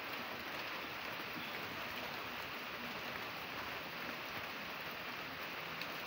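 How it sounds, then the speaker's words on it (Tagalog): A steady, faint hiss of rain falling continuously, soft and even throughout with no voices. "Umuulan na naman."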